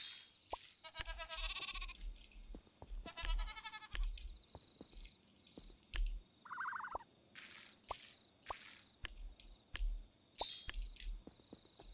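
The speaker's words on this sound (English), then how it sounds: "So that's a lot of sheep right there." Several sheep bleat in Miniland Adventure, a farming video game, with short wavering cries coming in bursts among drippy, squishy game effects and soft plops, heard close and fairly quiet with no talking.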